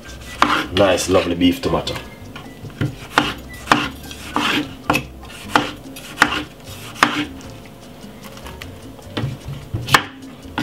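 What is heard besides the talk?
chopping beef tomato on a board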